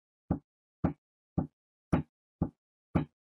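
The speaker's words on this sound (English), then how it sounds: "it makes the drum beater of the pedal hit against the drum and make a sound like this." A bass drum struck by a pedal beater in a kindergarten music lesson gives six evenly spaced, deep, solid thumps, each short and isolated against silence.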